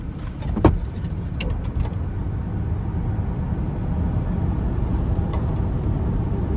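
2025 BMW iX electric SUV accelerating up a highway on-ramp, heard from inside the cabin as a steady low road and tyre rumble with faint whine, a few light rattles early on.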